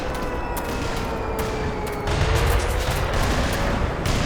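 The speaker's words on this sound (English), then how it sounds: "Are they mortaring me?" Mortar and gunfire boom and crackle in the Black Mesa video game, a dense barrage of sharp reports with a heavier rumbling burst midway, layered over a faint droning tone.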